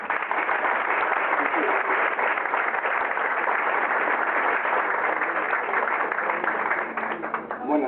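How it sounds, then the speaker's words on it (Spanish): Sustained audience applause at a conference on grief, a dense steady clapping filling the room for several seconds, fairly loud and alone, easing slightly near the end. "Le damos la bienvenida con un fuerte aplauso."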